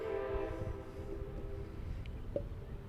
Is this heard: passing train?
yes